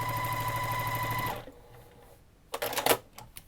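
A sewing machine stitches quilt blocks together in a rapid, steady mechanical whir for over a second, then stops, followed by a pause and a short clatter of handling noise.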